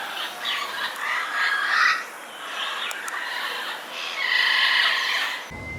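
Birds squawk and call repeatedly in a Hong Kong aviary, bright chattering bursts rising and falling over steady background murmur, fairly close and continuous.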